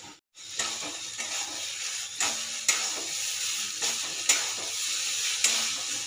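Ridge gourd peels sizzle and fry steadily in mustard oil, with several sharp scraping stirs of a spatula punctuating the continuous close hiss.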